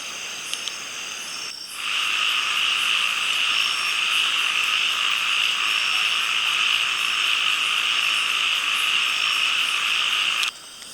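A loud chorus of frogs calling at night in Thailand, a dense, sustained trilling croak that starts abruptly and holds steady close by, with insects faintly underneath.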